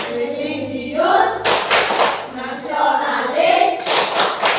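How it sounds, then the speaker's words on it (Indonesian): A class of children stands and chants the PPK clapping cheer together, a group of young voices calling out words in rhythm with bursts of hand claps, loud and close in a classroom. "Baik, sekarang Ibu yang pimpin tepuk PPK."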